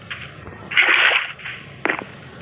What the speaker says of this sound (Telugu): ఇప్పుడు వాటర్ బకెట్ క్లచ్ టైం